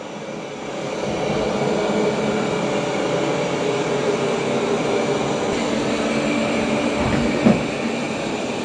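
A Roborock S8 Pro Ultra robot vacuum with a lifted mop pad moves across the floor. It makes a steady, close, even whirring hum that does not change, with one brief knock near the end and no talking.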